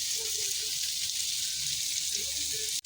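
Horse mackerel fish frying in a pan of hot oil, a steady broad sizzle that holds evenly close up throughout, with faint low clatter underneath and an abrupt stop at the very end.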